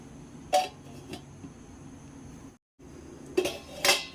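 A metal lid is set on a cooking pan of plantain flower curry, giving a few sharp clanks of metal on metal, one early and two close together near the end, over low kitchen background.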